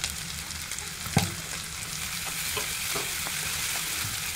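Chopped capsicum frying with onion in a pan for pav bhaji, a steady close sizzle with a sharp clatter of a spatula stir early on and softer stirring taps after.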